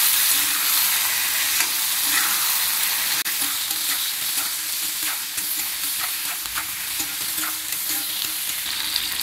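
Half a kilo of brinjal pieces sizzle and fry steadily in hot oil in a pan, a loud continuous crackle broken now and then by a scrape as the pieces are stirred, with no talking.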